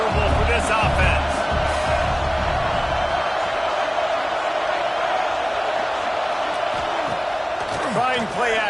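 A loud, dense roar rises from the crowd at a Michigan football game against a Spartan offense, continuous throughout, with a commentator talking over it.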